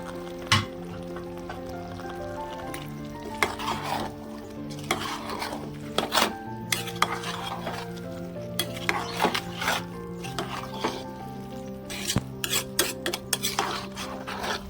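Chicken curry scraped and stirred into biryani rice in a metal pot, village-style cooking, with repeated close scraping and clinking of a spoon against the pot over a steady low hum.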